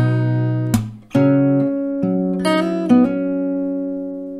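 Acoustic guitar picks out a melody, a handful of clear plucked notes that ring and sustain one after another, played alone.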